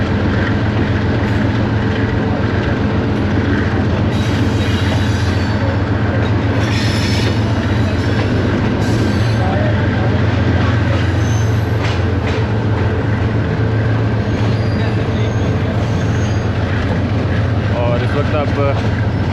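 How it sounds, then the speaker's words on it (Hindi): Subak Raftar railcar rolling from loop line onto main line on the Pakistan railway: steady loud wheel rumble with rhythmic clickety-clack over switch points and occasional squeal, continuous and near. "अब ऑलमोस्ट पूरी ट्रेन जो है वो लूप लाइन से मेन लाइन पे कनेक्ट हो गई है।"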